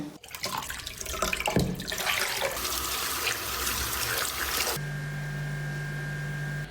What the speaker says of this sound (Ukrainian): Давайте під проточною водою змиємо миючий засіб